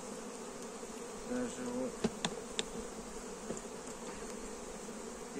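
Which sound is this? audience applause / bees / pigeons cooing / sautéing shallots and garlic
bees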